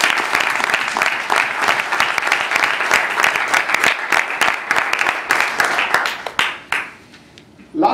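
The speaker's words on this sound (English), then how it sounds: "Can we hear a big round of applause to each one of you?" An audience claps loudly and steadily for several seconds before the applause tapers off and fades out.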